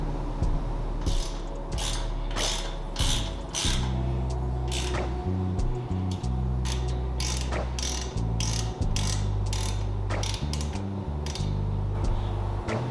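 A ratchet wrench tightens bolts on Cobra freeway bars fitted to a Harley-Davidson Street Bob FXBB, giving close, repeated runs of quick clicking with brief pauses between strokes. No one speaks.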